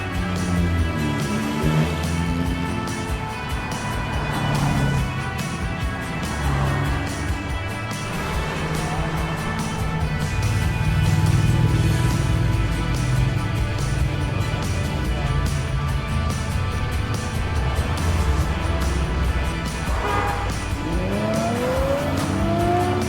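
Classic rally cars run along an estate drive, engines rising and falling as they pass, with revving, occasional tire squeal and a steady loud motor roar throughout.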